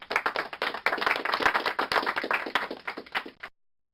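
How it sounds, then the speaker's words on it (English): Clapping sound effect played back through a Max730 soundcard: a dense, rapid run of sharp hand claps, loud and close, continuing steadily for about three and a half seconds before cutting off abruptly. "So we'll run claps."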